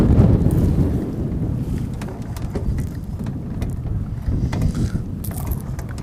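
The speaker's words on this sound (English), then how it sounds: "That wind just got real crazy right there." Strong gusting wind buffets the microphone outdoors while fishing, a heavy low rumble that surges and eases continuously. No other clear sounds come through it.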